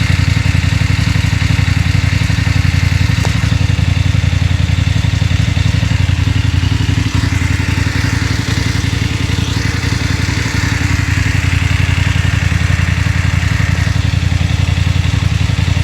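A BMW 850 GS motorcycle with a MIVV Delta Race exhaust idles close by, a loud, steady, rumbling burble that holds unchanged throughout without any revving.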